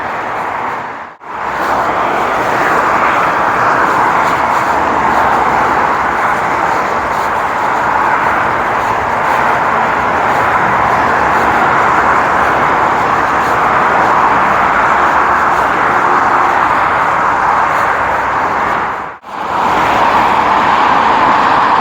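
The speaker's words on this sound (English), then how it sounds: "Now we're going over it, and I'm just guessing it's pretty much really noisy." Heavy M60 motorway traffic roars continuously below a bridge, a loud steady wash of passing cars and trucks broken only by two momentary dropouts.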